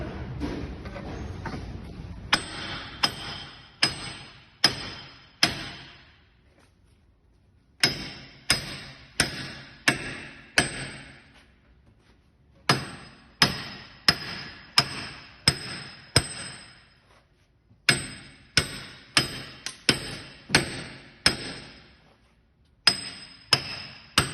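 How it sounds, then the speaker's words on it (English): A big hammer strikes a vehicle wheel bearing again and again in quick bursts of ringing metal clangs, with short pauses between each series of blows. "see how many shots it takes to get this wheel bearing to fall out with a big hammer"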